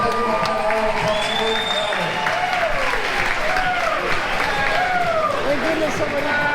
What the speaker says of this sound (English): Somebody give my man a round of applause.